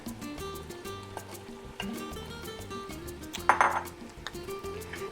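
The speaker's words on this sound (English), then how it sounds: "I'm gonna just mix that up a little bit like that." A spoon stirs 24 ounces of spaghetti sauce in a pan, giving a few soft scrapes and metallic clinks, with one sharper ring midway, up close over faint kitchen background.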